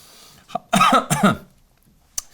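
A person coughs twice in quick succession, close and fairly loud, followed by a short quiet breath.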